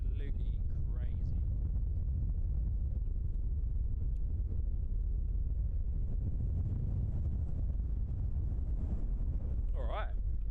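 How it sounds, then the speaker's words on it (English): Strong wind buffets the microphone at Christchurch Airport in New Zealand, a steady loud roar running the whole way through, with brief voices at the start and near the end. "Wow, this wind is absolutely crazy."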